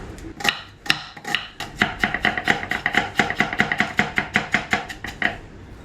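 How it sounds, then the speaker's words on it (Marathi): A knife chops onion, coriander and chillies for paratha on a board in quick, steady strokes. The sharp, close taps come in a fast even rhythm, with no voices. "चॉपिंग पुरो जाला"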